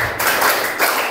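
Children in a counted clapping game clap their hands in a short series of about five quick claps, close and distinct with no talking.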